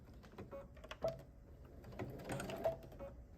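A sewing machine puts a quick stitch down the center of a fabric scrunchie, making short, quiet mechanical whirring bursts separated by pauses in an otherwise hushed room.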